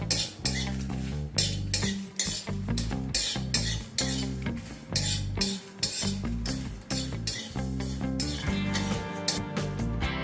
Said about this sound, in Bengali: এবার কালো জিরেটাকেও আমি এই শুকনো লঙ্কার সাথে সামান্য একটু সময় নিয়ে নাড়াচাড়া করে নেব।